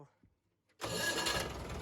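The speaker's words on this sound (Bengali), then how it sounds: "ইঞ্জিন সাউন্ড ফাউন্ড দেখতেই পেয়েছেন" A new JCB machine's engine fires up after a near-silent moment and then runs loud and steady, close to the microphone, with a broad rumbling roar.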